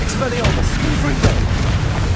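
Spell blasts from the Confringo blasting curse in Hogwarts Legacy, a dense wash of booming impacts and bursts filling a busy combat mix, with sharp transient hits around the middle and steady low rumble throughout.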